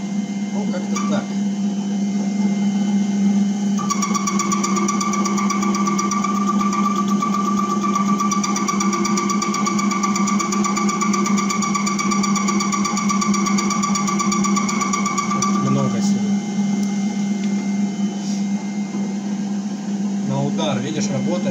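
A Metal Master MML 2870 MV lathe-milling machine runs steadily with a constant motor hum and whine, a higher tone joining midway, heard close and continuous with no speech.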